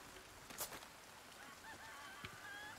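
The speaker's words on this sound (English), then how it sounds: "Chickens." Poultry in the Resident Evil 4 Remake video game: a few soft, nasal honking calls rise and fall over a faint steady background, fairly quiet and with no talk.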